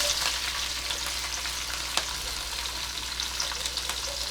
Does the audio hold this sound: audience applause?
no